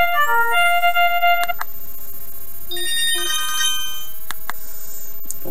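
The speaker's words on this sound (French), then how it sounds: "Vous avez une dizaine de sonneries possibles." A simple senior mobile phone's electronic ringtone plays a bright, bell-like melody, pauses briefly, then repeats; loud and close with no talking.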